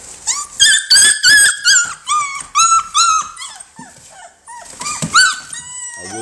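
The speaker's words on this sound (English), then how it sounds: "These are companion dogs we breed." American Bully puppies playing up close, a loud run of high whining growls and yips in quick bursts, with short pauses between, then more yelping near the end.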